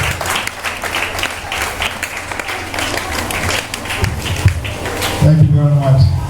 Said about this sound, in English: Let's turn around and give him that applause.